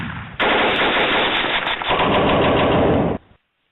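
Rapid automatic gunfire from weapons in the Minecraft DayZ mod crackles in a loud, sustained burst of nearly three seconds, with no talking over it.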